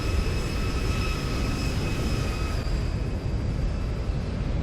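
A Boeing 737 airliner in the X-Plane flight simulator on approach with landing gear down and flaps set, in bad weather, giving a steady, loud broadband rumble of airflow and engines with faint tonal whines above.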